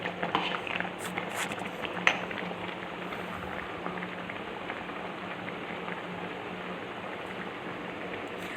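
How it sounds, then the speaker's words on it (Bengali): Gobindobhog rice payesh bubbling steadily in a pot as it boils, a dense, even crackle of small bursting bubbles, close and moderately loud, with no talking. "দেখো টকবক করতে শুরু করেছে"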